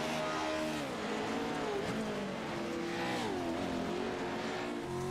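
A PRO-2 off-road race truck in the iRacing simulation drives at Lucas Oil Offroad, its engine droning loudly and steadily with rising and falling pitch as it shifts and accelerates.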